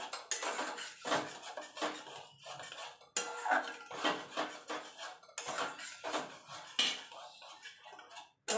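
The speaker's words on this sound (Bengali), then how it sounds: "টক দই দিয়ে কিন্তু সঙ্গে সঙ্গে কিন্তু নাড়তে হবে।" A spoon scrapes and knocks repeatedly around a metal pan as sour curd is stirred into paneer masala, rhythmic close clattering strokes with brief pauses, no voices.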